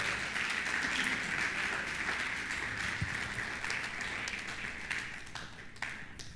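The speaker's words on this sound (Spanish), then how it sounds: "Dele un aplauso a Dios, por favor." A church congregation at a Sunday service bursts into sustained applause, a dense wash of many hands clapping that slowly fades over several seconds.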